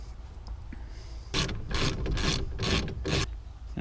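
A socket wrench ratchets as it tightens bolts on the wall bracket of a camper van table, producing several close, loud bursts of rasping clicks with no talk.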